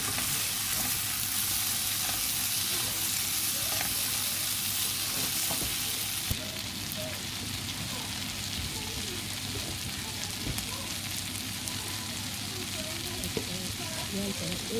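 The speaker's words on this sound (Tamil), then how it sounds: "நடி கருவாடு எல்லாம் லைட்டாக வதங்கி கொண்டு வந்துருக்குது" Dried anchovies frying in a pan for a Jaffna-style fish curry, a continuous close crackling sizzle that steps down to a softer frying hiss partway through, with no talk over it.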